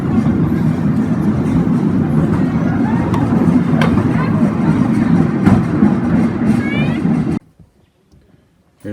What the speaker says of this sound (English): We'll just wait for the train.